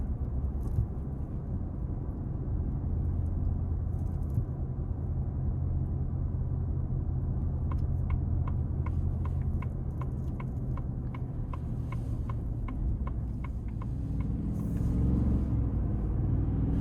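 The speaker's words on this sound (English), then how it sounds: "just under idle, just barely giving it any throttle, the V8's relatively quiet" Ford F-150 XLT 5.0 V8 engine held just above idle with barely any throttle, a steady low rumble heard from the cabin, joined midway by a run of regular ticking, likely a turn signal.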